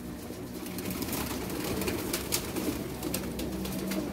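Jonsre pigeons coo softly in a loft, their low, throaty calls blending into a continuous murmur with faint background noise.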